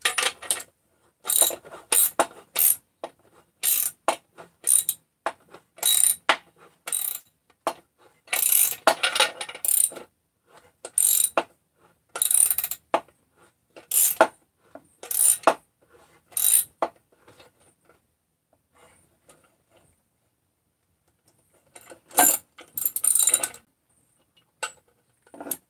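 Crankcase assembly bolts on a 268 engine are tightened with a ratchet in short, crisp bursts of clicking, loud and close, separated by silent pauses.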